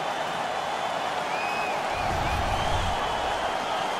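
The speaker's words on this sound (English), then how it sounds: "The crowd is ecstatic." A virtual arena crowd in NHL 16 roars after a hockey fight, a broad, steady wash of cheering that swells slightly midway, with a few whistle-like tones riding on top.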